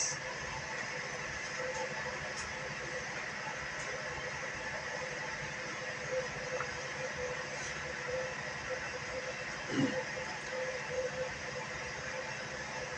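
A metro train rumbles and hums steadily at a constant loud level, with a dense, even roar and a faint passing clank.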